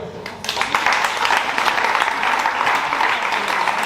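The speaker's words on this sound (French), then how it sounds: "Vous pouvez vous applaudir." A French sports club audience applauds itself at a season-launch gathering, a dense steady wash of clapping that swells after a quiet start and holds throughout.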